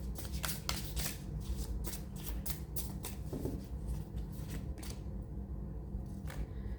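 Tarot cards being shuffled by hand in rapid riffling flutters, close and fairly soft, running continuously with no talk.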